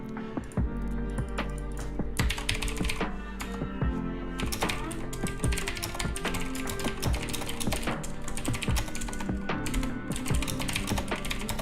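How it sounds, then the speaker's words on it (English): Rapid typing on a computer keyboard, with dense, continuous key clicks and clacks in an uneven rhythm, close and fairly loud throughout with no voices. "I'm typing it out for you now so that you don't miss when I'm answering you"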